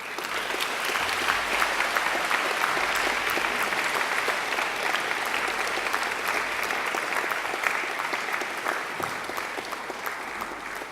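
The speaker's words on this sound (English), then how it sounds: "And now I invite you to give them a mighty round of applause." Graduates at a university graduation ceremony give a long, dense round of applause to their families and friends, a steady roar of many hands filling a large hall.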